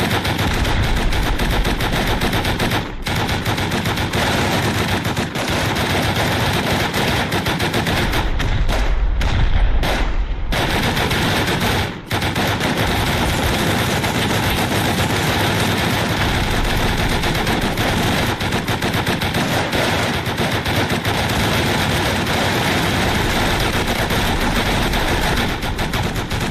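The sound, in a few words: turrets firing in the video game Rust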